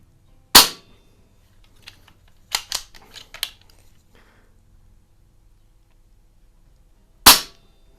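Beeman Buck Rail 2027 carbine air rifle firing Crosman Premier Hollow Point pellets: two sharp, close snapping shots several seconds apart, with quieter clicks and handling noises of reloading between them.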